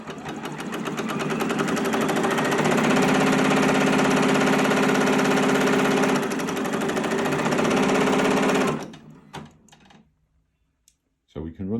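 A Brother PR1X embroidery machine runs steadily for about nine seconds, a loud dense mechanical hum and rapid stitching clatter, then stops abruptly, leaving a few faint clicks and near silence.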